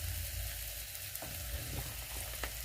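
Egg curry with paprika just added sizzles softly in a pan, a low, even frying hiss with a few faint spoon scrapes as it is stirred, quiet and free of talk.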